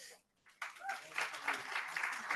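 Applause from a conference audience breaks out after a brief quiet, a dense wash of many hands clapping that holds steady and fairly loud.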